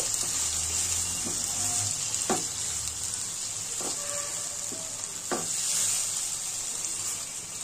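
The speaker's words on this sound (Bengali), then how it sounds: "ভালোভাবে নেড়ে চেড়ে মশলার সাথে টমেটোগুলো মিশিয়ে নিচ্ছি" Five medium tomatoes, chopped small, being stirred with spices in a hot pan for a Bengali tomato chutney: a continuous close sizzle broken by a few spoon scrapes against the pan.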